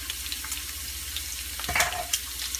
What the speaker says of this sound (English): I'm going to saute those for about a minute.